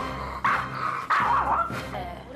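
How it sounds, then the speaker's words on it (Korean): A young puppy barks fiercely in three sharp, high yaps at close range inside a home. "맹렬하게 짖으며"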